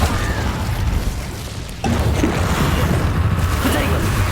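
A fire spell cast in the video game Hogwarts Legacy: a steady, dense roaring burst that holds loud for the whole stretch, with a sharp shift partway through as a fresh surge kicks in.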